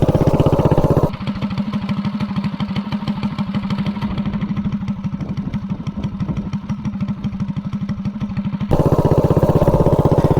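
A minibike engine fitted with a 5-foot intake runner revs hard under acceleration, giving a loud, rapid, buzzing pulse that holds for several seconds before the throttle drops back to a rougher, louder idle.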